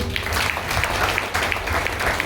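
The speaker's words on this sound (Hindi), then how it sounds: "एक और जोरदार तालियां।" An audience at a Brahma Kumaris ashram gathering gives a hearty round of applause, a continuous wash of many hands clapping at a steady level throughout.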